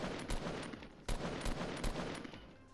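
Gunfire in Fortnite crackles in rapid bursts of sharp shots with several louder reports, heard at moderate distance without speech over it.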